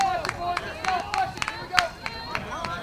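A baseball coach at a high school game clapping his hands, a rapid series of sharp claps in an irregular rhythm, moderately near, with crowd chatter and field noise underneath.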